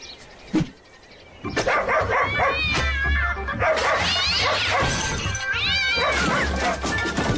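A cartoon cat meows and caterwauls loudly several times, with wavering drawn-out cries filling the scene, a sharp knock near the start and a low rumble beneath.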